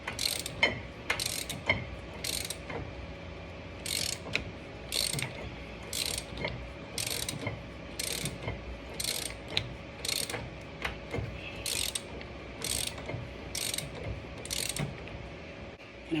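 Ratchet wrench turning the bottom nut of a tie rod onto a BMW E92 with SPL parts: repeated bursts of fast clicking ratchet strokes in a regular rhythm, close and clear, with no talking.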